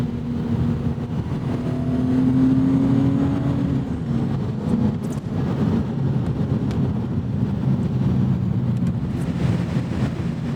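Engine of a 1991 BMW M5 E34 while driving, a steady smooth drone heard from inside the cabin with wind and road noise, loud and continuous without any talk.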